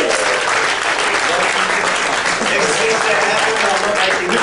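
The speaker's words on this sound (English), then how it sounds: "Give them a round of applause." Sustained applause from an audience at a beach event in Fiji, loud and steady for several seconds with a crowd voice showing through the clapping.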